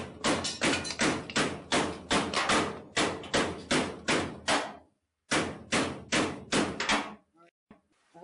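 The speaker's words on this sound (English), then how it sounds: "Y'all want to hear some banging?" Loud, rapid metallic banging on a 1950 Ford F1 truck's right window frame repeats in a steady rhythm, pauses briefly, then resumes before trailing off into a few faint knocks.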